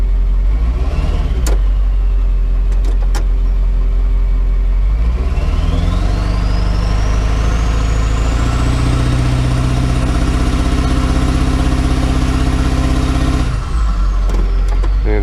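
A Ford F550 Powerstroke diesel engine with a starting issue, loud and close, idling with a low rumble and then held at rising revs under throttle before dropping back to idle.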